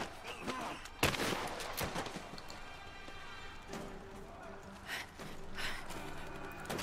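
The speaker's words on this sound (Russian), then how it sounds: "О, помповый дробовик" Several loud pump shotgun blasts in Rise of the Tomb Raider, with sharp bursts near the start and later, over busy background sound and music.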